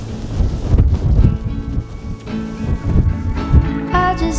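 Strong wind buffeting a hilltop near the summit of Corn Du in the Brecon Beacons, a loud continuous rumbling roar with gusts swelling and easing, close to the microphone.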